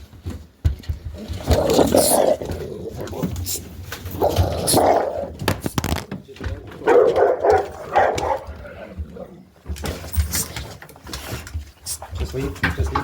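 A reactive, aggressive dog barks at the door in loud repeated bursts, with people talking over and between the barks.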